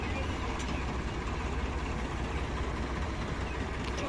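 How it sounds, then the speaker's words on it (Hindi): A farm tractor engine running after starting, a steady, loud low rumble that holds evenly throughout without speech. "ट्रैक्टर स्टार्ट हो चुका है।"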